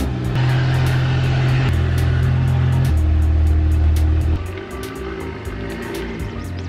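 BMW F30 engine running at first startup after a body kit install, a loud steady idle with shifting rumbling tones, then settling quieter near the end; a faint regular ticking runs through it.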